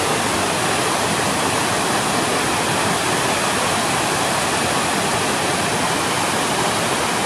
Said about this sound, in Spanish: Cascada La Conchuda.